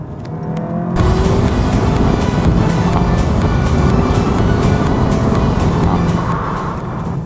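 A Seat Leon Cupra 280 hot hatch with 280 horsepower at the front is driven hard, its engine a loud, continuous drone and road roar heard from inside after a brief quieter start.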